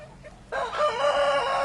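A rooster crows once, a loud, close, bright cock-a-doodle call rising abruptly after a brief quiet moment.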